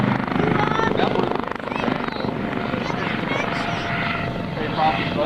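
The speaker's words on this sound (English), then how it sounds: "A helicopter approaches." HH-65 Dauphin helicopter approaching at an airshow over the water, a steady loud rotor and turbine roar that holds throughout without fading.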